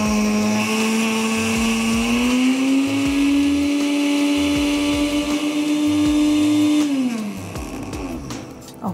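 An IDEALIFE Super Blender IL-220 grinding sesame seeds for oil runs as a loud, steady motor whine that rises slightly in pitch, then winds down near the end as the speed is switched, with some rattling afterward.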